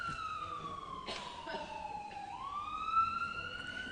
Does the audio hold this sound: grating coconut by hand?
no